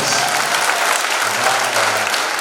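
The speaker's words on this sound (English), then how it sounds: "we are clapping our hands to Jesus" A church congregation claps hands together in praise, a dense, steady wash of applause filling the space for the whole moment, loud and continuous without pause.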